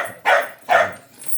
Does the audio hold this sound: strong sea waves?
no